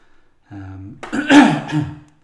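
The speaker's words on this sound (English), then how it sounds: "sorry guys, I've always got a bad cough" A close, harsh throat-clearing cough, a single rough burst preceded by a brief voiced hum, with no other sounds.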